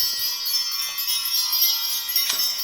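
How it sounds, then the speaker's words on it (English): Bright chiming bells ring continuously before a tarot reading, their shimmering tones layered and sustained, close and fairly loud with no voices. "I'm going to ring the bells"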